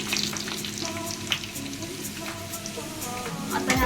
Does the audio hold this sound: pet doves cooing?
no